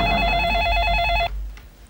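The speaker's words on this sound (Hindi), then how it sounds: "हाँ एक मिनट लालू, तुम्हारे प्रिंसिपल का फोन है।" A telephone rings loudly with steady repeating electronic bell tones for over a second, then cuts off abruptly into low room noise.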